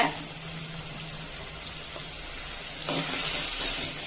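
Potatoes and green chillies sautéing in an oil-filled pan while mutton kuzhambu is being cooked: a steady, soft sizzle throughout that swells louder with a few faint clinks near the end.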